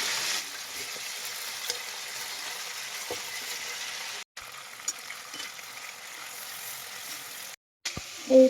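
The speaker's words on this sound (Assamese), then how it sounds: "হালধি আৰু নিমখ দি অলপ ফ্ৰাই কৰি লওঁ" Meat frying in a pan with turmeric and salt gives a steady, close sizzle with occasional stirring clicks and two brief pauses, ending with a louder scrape.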